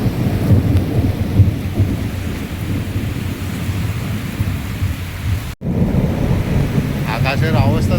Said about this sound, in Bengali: আকাশের অবস্থা দেখো, আওয়াজ দিচ্ছে দেখো।